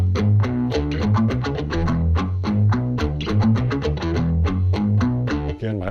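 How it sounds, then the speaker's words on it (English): Electric guitar lick beginning on the open E string, run through an octave divider that adds a thick sub-octave, with dense, distorted, fast-picked notes played loud and steady with no one talking. "my octave divider is making that sound really big"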